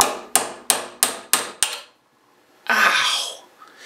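Five sharp hammer blows ring out in a steady rhythm while a tabletop skittles game is built in a woodworking shop, followed after a pause by a loud pained vocal outburst.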